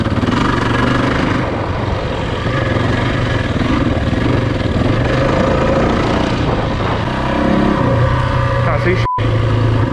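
A Yamaha WR400 dirt bike drones steadily and loudly as it rides through long grass at Reedy Lake, with the engine note holding close throughout and someone speaking briefly over it.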